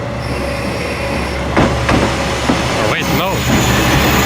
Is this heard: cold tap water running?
no